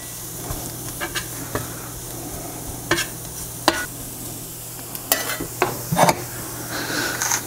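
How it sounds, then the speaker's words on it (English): Flour cooking down in a pot for rabbit pot pie, stirred with scattered scrapes and clinks against the pot over a steady low sizzle, close up and with no talking. "wanna cook that down for just a few minutes to let the flour cook a little bit"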